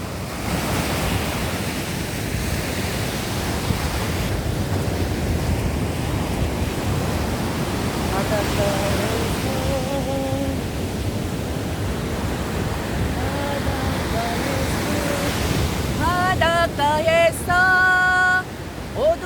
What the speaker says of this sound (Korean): 파도가 참 멋있어요.